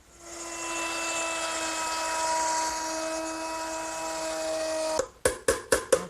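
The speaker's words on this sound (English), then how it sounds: "I'm going to route it out using a 1/4-inch veining bit set up in my router" A router fitted with a 1/4-inch veining bit cuts into a wooden shelf held in a bench vise, giving a steady high whine for about five seconds, then a run of four short, sharp bursts as it starts and stops.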